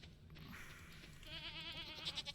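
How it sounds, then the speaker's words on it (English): A baby goat in the farming video game Stardew Valley gives a wavering bleat, faint and mixed in with quiet game background sound. "there's our goat."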